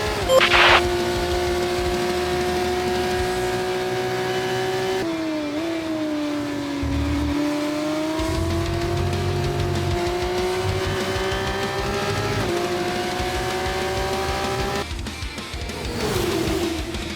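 Formula 1 race cars in a video game, engines holding a steady high whine that shifts pitch with gear changes, a near car and others behind it, continuous and loud with no talk.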